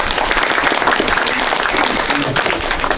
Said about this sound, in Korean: 임청화 교수님 신임 이사 여러분들에게 박수 한번 보내주시면 고맙겠습니다